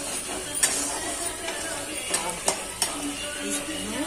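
Coriander is mixed into a sizzling fish curry masala in a pan, a steady frying hiss broken by a few sharp clicks of the spoon against the pan, close up and without voices.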